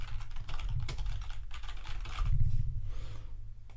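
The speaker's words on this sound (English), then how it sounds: "type it in" Fingers type on a computer keyboard in quick, uneven bursts of close, crisp key clicks, pausing briefly toward the end, with no voices.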